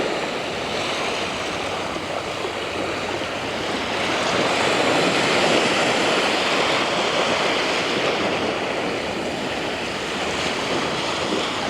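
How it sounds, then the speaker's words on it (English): Small waves lap gently along the shoreline of a calm beach near Paraparaumu and Waikanae, forming a steady, fairly loud wash with wind rumble on the microphone and no one talking. "Just getting little waves lapping on the shore."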